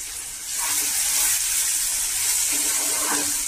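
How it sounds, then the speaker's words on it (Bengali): Water added to a pan of egg and poppy seed curry after rinsing the leftover poppy paste, giving a steady hiss and sizzle that swells and holds, close up, with no talk. "পোস্ত বাটার বাড়তি ধুয়ে একটু জল দিয়ে দিলাম"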